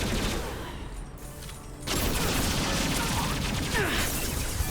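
Sustained combat gunfire in Mass Effect 2, a dense, loud crackle of overlapping shots that thickens and stays steady after the first couple of seconds, with no clear gaps between bursts.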